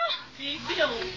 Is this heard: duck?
yes